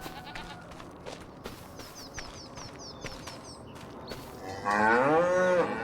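Cattle on a farm low in a loud, drawn-out moo near the end, following a stretch of quieter farmyard ambience with scattered knocks and faint bird chirps.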